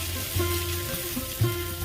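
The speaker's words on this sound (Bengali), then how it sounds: "ভাজতে গেলে খুব ফাটে আপনারা সাবধানে ভাজবেন" Pabda fish fry in hot oil with a steady sizzle and a couple of sharp spattering pops, heard close up in a kitchen with a low background hum.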